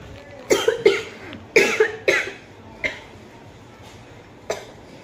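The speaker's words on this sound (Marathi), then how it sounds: "ब्लॉग चालू केला, अचानक खोकला आला." Several sharp coughs come close together near the mic, then two single coughs spaced out after a pause, with no talking.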